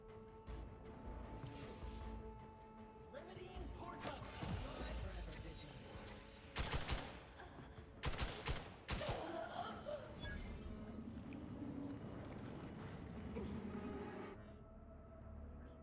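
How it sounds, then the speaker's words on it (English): Gunfire in Outer Worlds 2 crackles through a busy game mix, with a tight cluster of sharp shots near the middle among ongoing combat noise, while a voice talks over part of it. "Stop shooting from behind."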